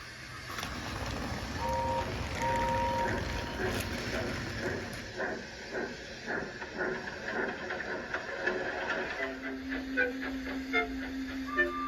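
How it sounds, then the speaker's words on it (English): A steam engine chuffs and hisses past, with metallic clanks and rhythmic puffs, steady hiss and a brief whistle-like tone, moderately near. "Gordon came clanking past, hissing rudely."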